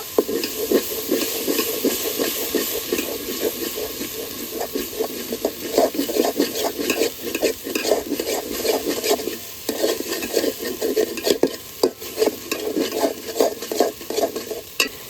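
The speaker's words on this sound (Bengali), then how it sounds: "এখন সব কিছু ভালোভাবে কষিয়ে নেব।" Meat masala and spices with chilli powder fry and sizzle in a pan for egg pilau, a spoon stirring through them in steady scraping strokes over continuous close, fairly loud crackle; no talking.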